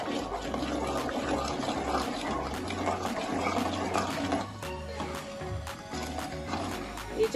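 Ghee and sugar syrup bubbles and sizzles in a pan for badusha while being stirred, a continuous soft frothing with brief scraping knocks throughout.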